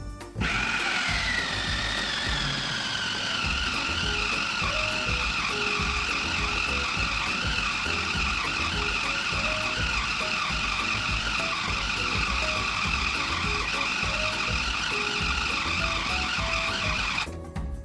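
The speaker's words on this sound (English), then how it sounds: "Now I'm going to put the lid on the food processor and make a big old loud noise." A food processor runs continuously for pizza dough, a loud steady whirring motor whine with a grinding, churning texture throughout, starting abruptly and cutting off at the end.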